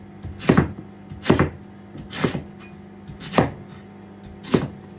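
Knife chopping on a board: five or six firm, evenly spaced thuds, close and clear, with quiet pauses between strokes.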